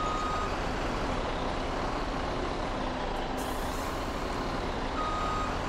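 Truck engine idling with a reversing alarm in Farming Simulator 17, a steady loud rumble with faint beeps barely standing out and a brief hiss partway through.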